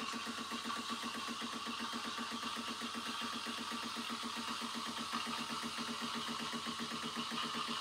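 A Decent espresso machine steam wand hisses steadily into milk in a pitcher, a continuous close roar with a fine rhythmic flutter as the milk spins.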